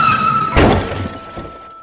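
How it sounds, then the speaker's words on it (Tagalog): Glass shatters in a car crash as a car slams into an oncoming AUV, a single loud burst of breaking glass with a thud, then fading debris and rattles. "kasabayang tunog ng mga nabasag na salamin nang sumalpok ang kotse sa kasalubong na AUV"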